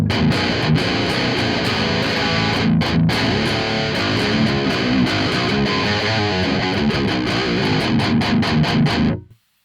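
Electric guitar through an Audio Assault RVXX high-gain amp sim with the boost switched off, playing a dense, continuous distorted riff with rhythmic chugs and a few short stops, then cutting out abruptly at the end; no talking.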